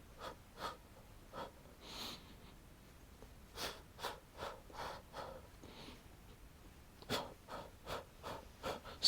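Rhythmic breathing during a Pilates pumping exercise: quick, sharp breaths and puffs in short regular bursts, close and fairly soft, repeating in steady clusters with brief pauses between.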